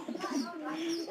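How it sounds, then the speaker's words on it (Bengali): Pigeons coo near a pigeon coop, a run of low, soft, rolling calls repeating close by, with a voice-like murmur woven through. "কবুতরের ডাকটা দেয়"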